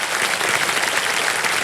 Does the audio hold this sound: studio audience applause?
yes